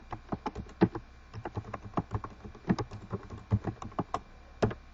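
Close, quiet clicking of computer keyboard keys, an irregular run of individual taps and quick bursts with no talking.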